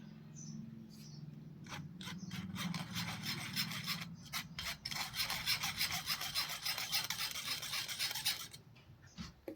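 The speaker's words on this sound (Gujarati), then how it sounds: "આવી રીતે મેંદાને ચાળી લઈશું।" Maida flour sifted through a metal sieve for chocolate nankhatai, a steady scratchy rasping with rhythmic taps of the sieve, close and fairly quiet, with no speech.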